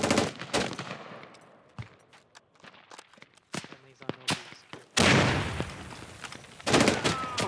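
Sustained gunfire from a fire base in the military shooter Squad: irregular sharp cracks and rapid bursts, some close and loud, others farther off, thickening into heavy fire and a booming rumble toward the end.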